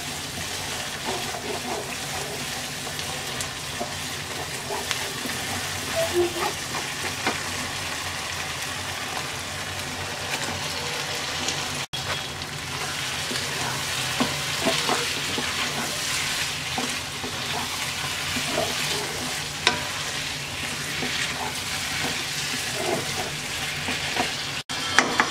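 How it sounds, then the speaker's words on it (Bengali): Fried pointed gourd and potatoes tossed into spices cooking in a pan for Bengali aloo potol kalia, giving a steady, close sizzle with scraping stir strokes throughout. "এবার ভাজা পটল আলু দিয়ে দিচ্ছি।"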